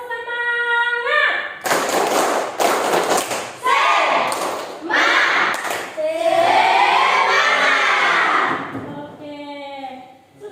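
A school class performs the rhythmic 'tepuk semangat' clapping ice breaker, with loud patterned hand claps and thumps mixed with children's chanting voices.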